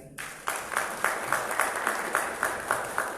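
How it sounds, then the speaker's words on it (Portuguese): An audience gives a brief burst of steady applause at a political event in Angola, with regular clapping that carries on evenly after a sharp onset. "a quem eu peço uma salva de palmas"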